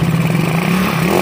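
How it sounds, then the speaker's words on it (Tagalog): A motorcycle fitted with racing cams idles close by with a steady, loud engine note and a fine, rapid mechanical ticking running through it, with no talking over it. "Kaya may lagitik yan ng konti kasi naka-racing cams po siya"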